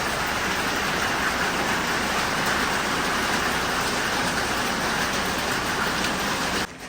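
Steady, dense rain hiss pours down without pause, loud and close, cutting off abruptly near the end, as two vehicles sit sheltered from it.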